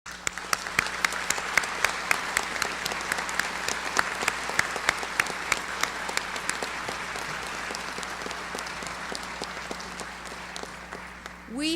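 A large audience applauding at a university dedication ceremony honoring Rosa Parks in 2000, dense sustained clapping with crisp individual claps, steady and fairly loud until it fades near the end.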